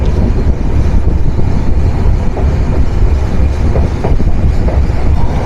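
SilkCity Express intercity train on the Rajshahi–Dhaka route passing through Saidabad station in Sirajganj, Bangladesh, heard as a steady, loud rumble of wheels and carriages with faint rhythmic clacking throughout, no voices.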